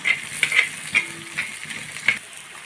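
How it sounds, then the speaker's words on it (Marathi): Onion and green chillies for a green chilli kharda fry in an iron pan, a steady close sizzle broken by several sharp scrapes of a spatula stirring, with no voices. "कांदा आपला भाजत आला आहे छान लाल करून घ्यायचा आहे"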